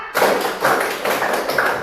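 Hand clapping in a classroom counting exercise, a series of about four or five distinct claps in a steady rhythm, close and fairly loud with no talk.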